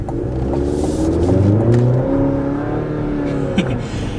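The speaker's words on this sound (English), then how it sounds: "It's a 4-cylinder, but it's got some torque. It actually accelerates very well" A 2025 Chevy Colorado ZR2 with a 4-cylinder engine accelerates hard, its engine note climbing steadily through the gears in a loud, close, continuous drone heard from inside the cab.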